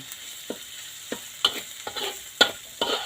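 Curry paste is stir-fried for a pumpkin curry with pork, a low sizzle broken by a series of distinct spatula scrapes and clacks at an uneven rhythm, close and loud, with no talking.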